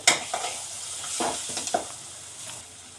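Crushed pepper, cumin and green chillies, with fenugreek and dried chilli, sauté in a hot pan: a close, even sizzle broken by a few brief scraping stirs.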